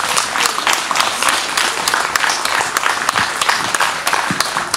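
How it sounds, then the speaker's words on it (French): A dense crowd claps for the mayor at the opening of a sheep festival in Marspich, steady loud applause throughout with sharp individual claps standing out. "Monsieur le maire, je tiens beaucoup à ce qu'on vous applaudisse pour tout ça."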